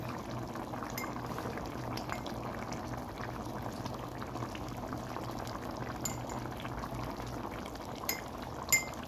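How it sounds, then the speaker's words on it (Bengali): Rohu fish curry boiling in a pot of hot water, a steady close bubbling simmer throughout with faint clinks near the end and no voices. "পরিমাণ মতো গরম পানি মাছ দিয়ে দিয়েছি রুই মাছের তরকারিতে"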